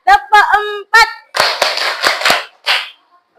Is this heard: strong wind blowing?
no